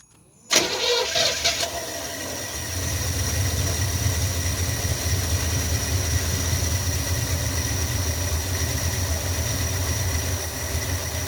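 An Oldsmobile engine starts abruptly after being primed with poured fuel, then settles into a steady, even idle with a low rumble that holds for about ten seconds, close up and with no talking.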